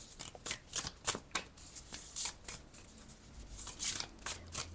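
Tarot cards being shuffled and drawn from the deck, with a run of soft riffling swishes and light card slaps, close and fairly quiet, no voice.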